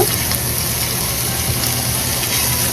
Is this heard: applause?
no